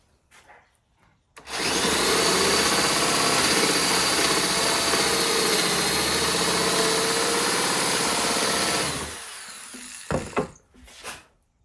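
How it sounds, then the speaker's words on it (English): A Forstner bit bores straight down into wood during a cabinetry revamp, giving a loud, steady whirring drone that runs unbroken for about seven seconds, then stops, leaving a few faint knocks. "And your drill bit, this is a Forstner bit, what they call a Forstner bit."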